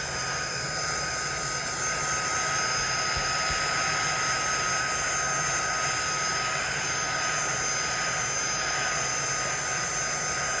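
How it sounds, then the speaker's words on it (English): Steady loud whooshing blower noise with a constant high whine, unchanging throughout, like a heat gun running close by. "I might just get my heat gun."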